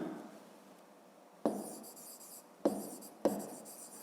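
Pen writing on paper during a fifth-grade maths lesson, heard as faint continuous scratching strokes with three sharper taps where the pen lands or lifts, close and quiet, with no talking.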